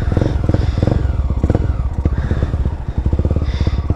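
A modified Honda Twister motorcycle with an unadjusted carburetor runs rough on the street, its engine thumping in a close, loud, rapid pulse with slight clattering and uneven surges.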